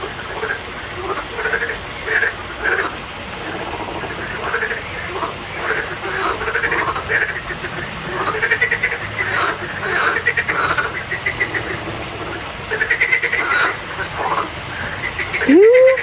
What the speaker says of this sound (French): je crois que c'est des crapauds.